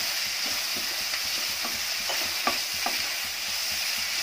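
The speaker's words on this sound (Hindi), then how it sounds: "इसको 1 मिनट के लिए पकाना है मटर और प्याज को।" Green peas and onion frying in a pan for pulao, a constant bright sizzle with intermittent scraping clicks of a spoon stirring the mixture, close and steady with no talking.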